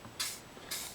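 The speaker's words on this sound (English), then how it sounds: "I'm just going to put a quick spray" WD-40 sprayed onto a screw on a 1980s Japanese Ocean Side 303 fishing reel built for K-Mart: two short, close hissing bursts with a brief pause between them, alone against a quiet room.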